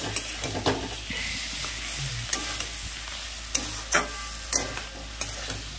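Curry with green chilli paste, cumin and ginger being stirred and fried in a pan: steady sizzling with repeated scraping stirs and a few sharp clinks of the spoon against the pan, close up, no voices.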